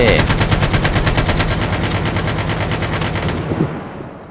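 Rapid automatic gunfire in a video game, a loud continuous burst of machine-gun shots that fades out toward the end.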